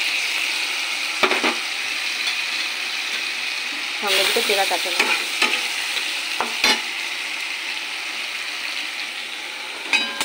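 Taro stolons frying in a pan as mustard-poppy paste and slit green chilies go in, a steady close sizzle with brief stirring clatters, while someone talks over it.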